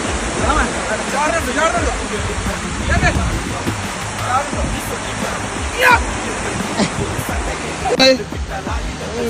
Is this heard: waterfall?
yes